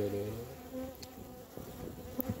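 Honeybees at the hive working on crystallized honey make a soft, low buzzing hum, quiet and close, with a few brief louder wingbeats.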